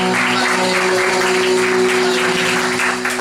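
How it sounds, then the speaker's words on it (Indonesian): Congregation applause during a church service, a dense even wash of many hands clapping over a sustained organ or keyboard chord, loud and continuous throughout. "Boleh beri tepuk tangan yang"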